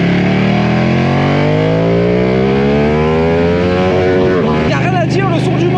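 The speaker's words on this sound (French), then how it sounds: "le son du moteur est très expressif" A Ducati Panigale V2 motorcycle engine revs hard on an open road and climbs steadily in pitch, loud and close, then drops back abruptly to a rough, burbling idle.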